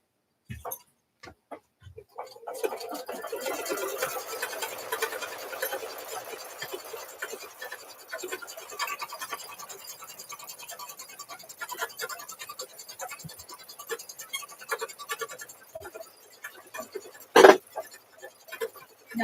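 An embroidery machine stitches batting onto a placemat in the hoop, giving a rapid, steady ticking and scratching chatter up close. It runs for most of the stretch with a sharper knock near the end.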